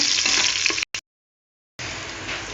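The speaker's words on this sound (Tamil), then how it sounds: "வெங்காயம் நல்லா முருகலாக வதங்கட்டும்." Onions frying in a pan for vegetable biryani, cooked until crisp and brown, give a steady close hiss that cuts to silence for about a second and then resumes.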